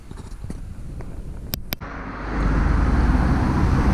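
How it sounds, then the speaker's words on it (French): Car traffic on a French national road, heard outdoors as a steady roadway rumble that builds louder partway through as vehicles pass close, with a couple of sharp clicks before it swells. "Veuillez m'excuser pour le bruit des voitures. Nous sommes sur une nationale."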